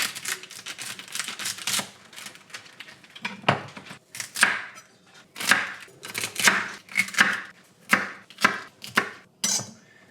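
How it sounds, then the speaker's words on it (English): A knife chops through the ends of bok choy on a cutting board in a kitchen, giving a series of crisp, close cutting knocks that start irregular and settle into a steadier rhythm. "I'm just gonna prep my bok choy now, and I think I'm gonna leave them whole. I'm just going to cut off the ends."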